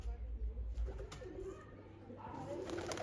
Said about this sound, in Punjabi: ਅੱਜ ਫੇਰ ਇੱਕ ਕਬੂਤਰ ਆ ਰਿਹਾ